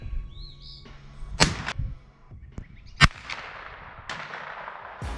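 Sharp, crisp cracks of a .22 rifle firing Winchester ammunition outdoors, a few spaced single shots with short decaying tails, against quiet background and faint bird chirps.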